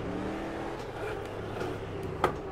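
A car engine revving on the throttle while driving around the Targa circuit, a steady close engine drone with a short sharp spike near the end, no talk.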